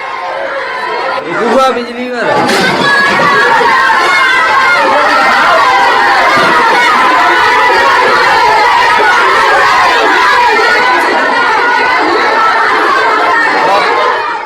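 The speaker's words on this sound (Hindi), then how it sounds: "भारी भीड़ है महिलाओं की, पुरुषों की। लोग प्रदर्शन कर रहे हैं कि स्मार्ट मीटर नहीं लगेगा।" A dense crowd of men and women protesting against smart meters, loud continuous chatter and shouting packed close around the listener with overlapping voices throughout.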